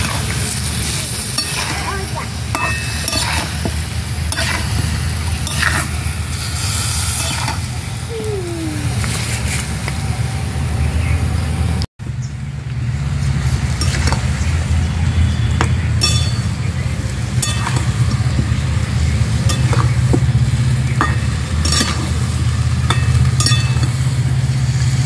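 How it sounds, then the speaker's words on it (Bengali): Masala spices for dhoniya chicken sizzle and fry loudly in a pan, close up, with steady stirring and occasional utensil clinks against the pan. "মশলাটাকে খুব ভালো করে কষিয়ে নেব।"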